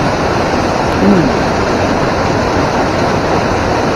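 Water rushes steadily over the Fox River spillway in a loud, unbroken roar that stays close and constant throughout.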